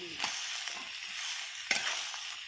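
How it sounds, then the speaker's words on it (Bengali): Green peas, 250 grams, tipped into vegetables frying in a wok, giving a steady hiss and sizzle with a sharp clatter and a louder rattling burst later as they land in the hot pan. "এইবারে কড়াইশুঁটিটা দিচ্ছি"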